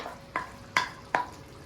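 Masala paneer curry with fried paneer pieces cooks in oil in a pan: three sharp spatula stirs land about every 0.4 seconds over a faint, steady sizzle, with no voices.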